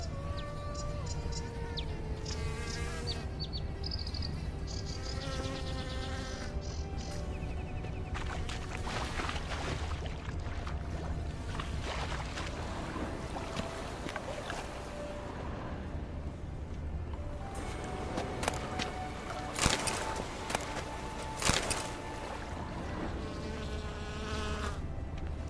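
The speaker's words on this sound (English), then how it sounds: "I hear flies buzzing, but I don't see anything." Flies buzz steadily by a shoreline in The Witcher, a faint, continuous drone beneath soft ambient music and background game noise.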